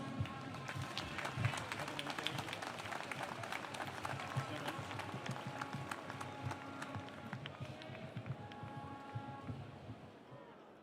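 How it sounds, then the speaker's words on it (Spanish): Crowd applause at a May Day workers' rally in Montevideo, Uruguay, a dense, distant wash of clapping held steady for several seconds and slowly fading, with scattered voices in the crowd. "Fuerte el aplauso."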